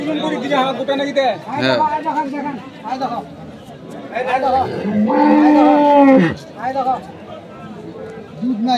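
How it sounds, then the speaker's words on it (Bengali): A dairy cow lows loudly and close at a busy village cattle market in Dinajpur, one long drawn-out moo rising over steady crowd chatter and nearby talking. "আমরা দেখছি এখানে আরেকটি গরু"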